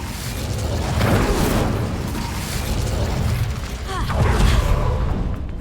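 Fiery spell blast cast in the Hogwarts Legacy video game: a dense, roaring burst of flame and rumble that swells twice over several seconds, loud and continuous with crackling texture.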